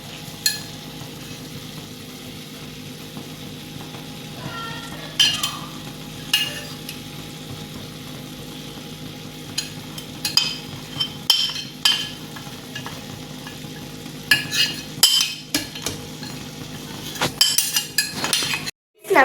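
A spoon stirs masala spices into keema frying in a pan, with repeated scrapes and metallic clinks over a constant low sizzle, growing busier near the end.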